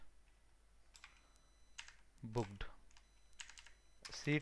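Fingers type code on a computer keyboard in short irregular bursts of key clicks, close but quiet, with a faint voice speaking in the background.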